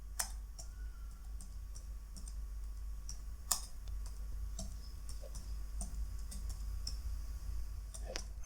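Sparse keyboard clicks tapping out a page title on a computer, irregular and fairly quiet over a steady low hum, with one or two sharper key strikes standing out.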